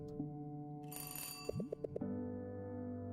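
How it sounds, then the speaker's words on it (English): A doorbell rings in the Until Then video game: a short run of bright, evenly spaced chime tones sounds over a steady musical background, fairly close and clear. "They don't usually ring the doorbell, do they?"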